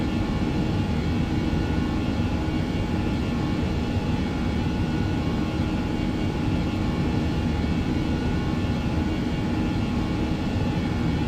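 A Boeing 737-800 in the X-Plane 11 flight simulator climbing after takeoff, with a constant, loud cockpit drone of engine and airflow roar and no break or change throughout.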